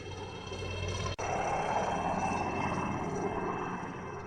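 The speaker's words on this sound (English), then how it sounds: "Helicopters!" Helicopters flying overhead on a road near the Ukrainian border, a steady broad rotor and engine drone that stays loud and constant throughout with a brief dropout partway.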